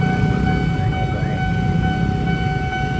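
Steady electronic tones of a railway level-crossing warning signal sound in Citayam as a train passes. They hold loud and continuous over a low rumble, with no one speaking.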